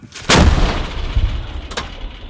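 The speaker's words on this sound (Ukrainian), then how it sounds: "Гармата!" A single thunderous blast from an M101A1 howitzer close by, followed by a rumbling echo and a sharp secondary crack a moment later.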